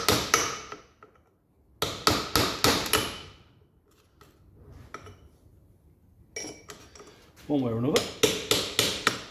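Hammer striking a chisel to knock off a retainer ring on a 1962 Land Rover Series 2a under restoration, sharp metallic blows in quick bursts of five or six, with a pause and brief speech between bursts.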